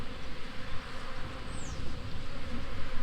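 A swarm of honey bees drones around a hive box, a dense, continuous buzzing hum close by, with individual insects flitting past.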